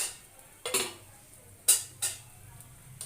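A utensil stirs curry in a wok, making a few sharp metallic scrapes and clinks spaced irregularly over a quiet background, with no talk during the strokes.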